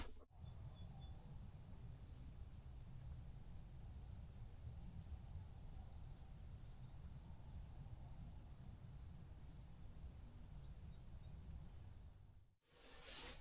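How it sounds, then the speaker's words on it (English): Crickets chirp at dusk on a calm, windless evening after a rainstorm, a steady high trill with regular pulsing calls running throughout, faint and distant in a quiet outdoor setting. "I hear crickets chirping in the background."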